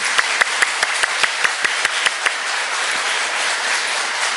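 A church congregation applauds loudly, starting with a few sharp, evenly spaced claps in unison and then spreading into a full, continuous roar of clapping that fills the room.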